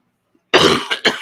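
A single person coughs sharply three times in quick succession, close and loud, after a moment of near silence.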